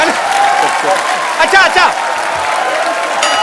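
Studio audience applause at a comedy talk show, a short burst of clapping under someone talking.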